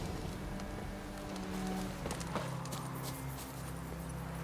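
Horse hooves clip-clop at a steady walking rhythm in The Witcher 3: Wild Hunt, moderately loud over a constant ambient bed with faint rain-like patter, with no talk.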